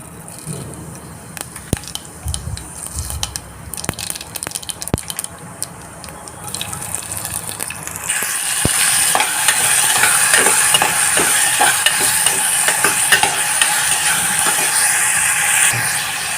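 A hot tempering is poured over onion, tomato and garlic sitting in a pressure cooker; scattered clinks and stirring give way to a louder, steady sizzling hiss for the rest of the clip.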